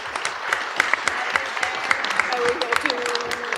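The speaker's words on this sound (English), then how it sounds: "Give it a big applause." Applause from a panel discussion audience, a scattered patter of clapping with distinct sharp claps near the front, continuing alongside a voice speaking over it.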